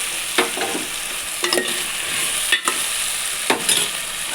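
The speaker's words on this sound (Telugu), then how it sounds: "ఇప్పుడు టమోటాలు బాగా డ్రై అయిన తర్వాత మనం ఉడికించి పెట్టుకున్న చామగడ్డల్ని వేసుకోండి" Boiled taro roots are tipped into a pan of tomatoes cooked down until dry. A steady sizzle runs underneath, with about four clear scrape-and-stir strokes spaced roughly a second apart.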